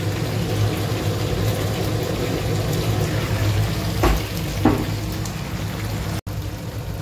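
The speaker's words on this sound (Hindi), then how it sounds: "तो देखिए ये ऐसे फ्राई हो रहे हैं" Bell peppers fry in a covered pan, giving a steady low sizzle and bubbling hiss with a couple of brief louder pops or knocks near the middle.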